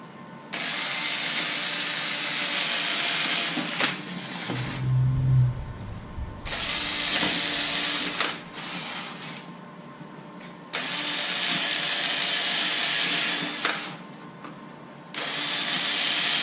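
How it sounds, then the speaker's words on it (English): A cordless power drill pre-drills holes and drives screws into the wooden top of a stone crab trap. It comes in loud, close bursts of several seconds each, with short quiet gaps and a low thud between runs. "Now I'm going to pre-drill the rest of the top and finish fastening those screws down."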